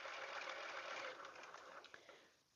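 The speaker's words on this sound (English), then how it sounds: "This is the first sewing I'm doing." Sewing machine stitching fabric for a quilted flag wall hanging, a quiet, fast, even whirring run that slows and stutters before stopping.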